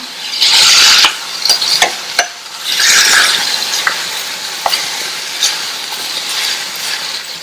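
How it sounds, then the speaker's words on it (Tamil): Boiled radish pieces being stirred and tossed with masala in a hot pan, giving a loud scraping, clattering mix over a steady sizzle, with two bursts of heavier stirring near the start. "வேக வச்ச முள்ளங்கியை சேர்க்கிறேன். முள்ளங்கிய மசாலாவோட நல்லா பிரட்டி விட்டுறலாம்."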